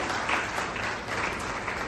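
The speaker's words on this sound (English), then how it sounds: "Please welcome her with a huge round of applause." Audience applause welcoming a dermatologist guest speaker at a lecture on sunscreen, a dense, steady wash of many hands clapping at moderate loudness throughout, with no voices over it.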